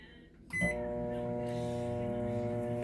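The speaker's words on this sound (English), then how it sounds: "Now, I'm just going to pop this in the microwave" A kitchen microwave oven hums steadily after the door shuts and it starts, a continuous close tonal drone with faint beeps at the start, running alone for about three seconds.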